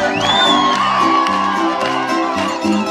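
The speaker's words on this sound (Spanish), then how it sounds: "Así que el aplauso fuerte, chicos." Loud audience cheering and whooping at a live show, dense crowd noise throughout with shouts rising above it.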